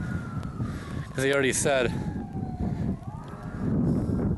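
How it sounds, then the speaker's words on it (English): Emergency vehicle sirens wail outside an abandoned house during a rainstorm, rising and falling from a moderate distance over a constant rush of rain, with someone speaking briefly over them. "The sirens are like non-stop."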